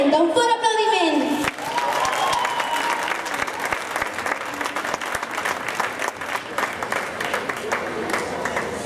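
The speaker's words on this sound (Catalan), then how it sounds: "Un fort aplaudiment!" Concert audience breaks into sustained, dense applause after a brief sung note at the start, clapping steadily and fairly loud throughout.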